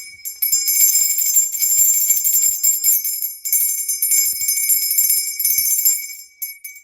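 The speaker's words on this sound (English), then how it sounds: "A brass bell." A brass bell is rung loudly and repeatedly, with bright, shimmering metallic tones that ring on between strikes, close and alone, before fading briefly at the end.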